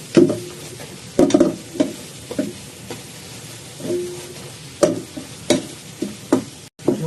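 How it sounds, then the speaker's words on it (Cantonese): Mushrooms and fish paste simmer in a covered pot, the sauce bubbling with scattered pops and bursts, some louder plops standing out over a low steady simmer, with no talk. "醬卜卜啊！"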